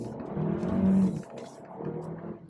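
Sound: Hyundai Kona SUV accelerating with all-wheel drive lock

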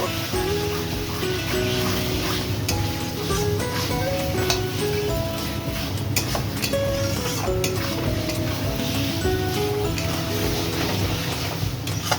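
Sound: sautéing spice paste in oil for mutton curry

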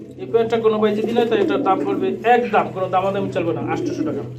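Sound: pigeon cooing

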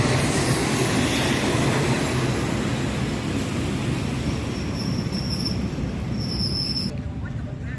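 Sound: train passing at Lopburi railway station, Thailand

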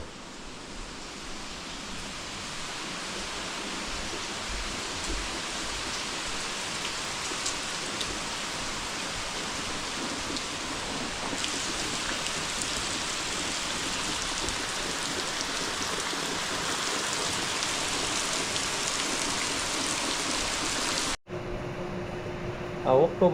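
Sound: heavy monsoon rain

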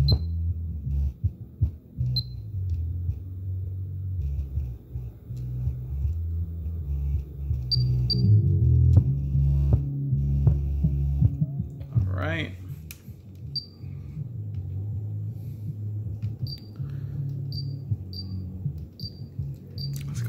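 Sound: car stereo subwoofer bass with low pass filter, Pioneer DEH-P7600MP

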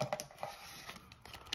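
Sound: shuffling a deck of playing cards

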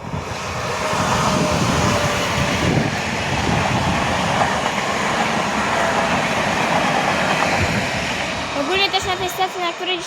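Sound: Pesa Dart train passing through Warszawa Włochy station

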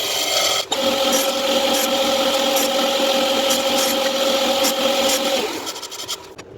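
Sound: cutting wooden blanks for a segmented plate

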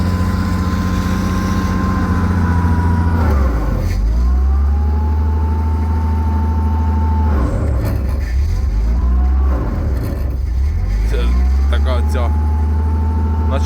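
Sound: GAZ 52 truck engine running

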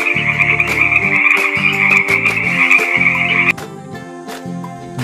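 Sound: frog croaking

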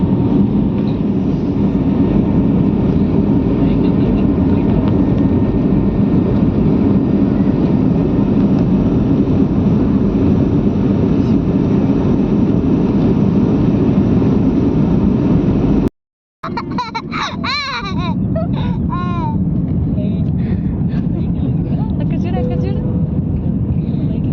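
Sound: airplane taking off, flight climbing

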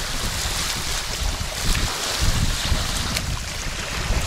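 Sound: ocean waves at the coast

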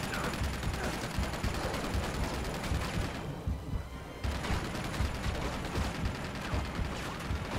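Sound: gunfire in the video game Uncharted 2

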